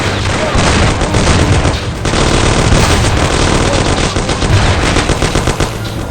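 A shootout in the Mafia video game erupts in loud, dense bursts of rapid gunfire, with shots overlapping continuously and a few heavier booms mixed in.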